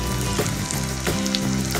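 Sour apple pieces for a pickle fry in hot oil in a pan, a loud, close, continuous sizzle with a couple of brief stirring scrapes.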